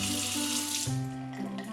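Sink tap in a Japanese school bathroom gushing water into the basin, a steady close splashing rush that shifts pitch slightly as the flow changes.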